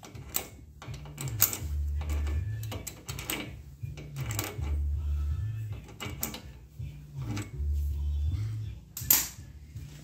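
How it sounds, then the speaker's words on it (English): A thread tap is wound back out of a hole for a tow hook, making repeated metallic clicks and ratcheting scrapes in an irregular rhythm over a low humming drone, close and moderately quiet, with no speech. "Now we'll wind it back out and we can install our tow hook for keeps."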